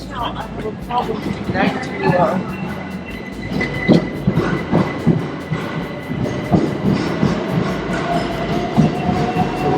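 A UK train, on a Cambridge to Edinburgh journey, rolls past nearby with rhythmic clickety-clack of wheels on rails and rumbling carriages, steady and fairly loud.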